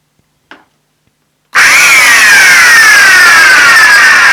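After a faint click, a 1980s Toshiba Carry Clean VC-410 vacuum cleaner switches on with a sudden loud, steady high-pitched whine and rushing airflow, very close and continuous, with a falling tone as the motor spins up.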